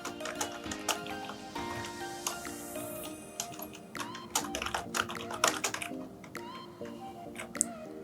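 Rapid, continuous clicking of a computer keyboard as code is typed, with close, crisp keystrokes running throughout at a steady, busy pace.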